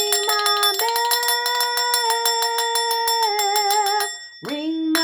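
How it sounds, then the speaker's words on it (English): A bright bell rung rapidly and repeatedly for about four seconds, ringing loud and close with a shimmering tone, then a brief lower ringing note near the end, no talk over it. "let me ring my bell"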